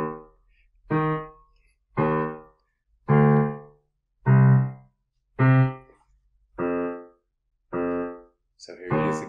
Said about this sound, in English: Well, maybe I'll play the bass line first.